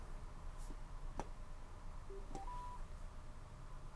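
A Sena 60S motorcycle headset powers on with a short rising sequence of three electronic tones, stepping upward in pitch, clear and close over a quiet background hiss.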